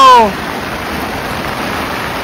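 Heavy rain pouring steadily outdoors, a dense continuous hiss that starts right after a brief voice and then carries on alone, loud and unbroken.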